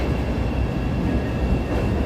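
A Chicago elevated train rounds a tight 90-degree turn over a street in the Loop, a loud continuous rumble of wheels and rail noise heard nearby with no talk.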